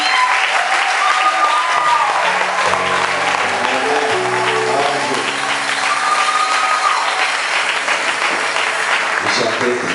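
A church congregation applauds loudly and steadily throughout, the clapping blending into a dense crowd wash, with some voices and a faint musical tone rising through it.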